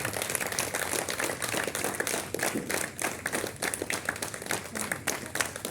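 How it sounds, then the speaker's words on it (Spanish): Dense, steady applause fills a church service, many hands clapping at close range for several seconds without a break in the noise. "Un aplauso al Señor entonces esta noche"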